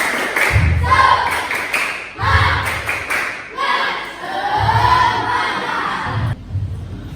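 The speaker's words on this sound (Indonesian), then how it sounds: "Semangat sekali lagi. Tepuk semangat." Students in a maths class doing another round of tepuk semangat: patterned bursts of clapping and group chanting in short rhythmic phrases, with voices over the claps and a brief pause near the end.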